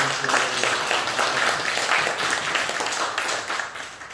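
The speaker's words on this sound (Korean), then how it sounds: "다시 한번 우리 박수하며 감사하는" A church congregation applauds during a Sunday worship service, a dense, steady patter of many hands clapping that fades slightly toward the end.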